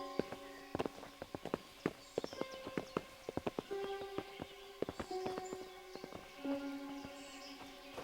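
Horse hooves clip-clop in a steady, uneven walking rhythm in Kingdom Come: Deliverance, sharp and fairly close, mixed with a sustained musical tone underneath.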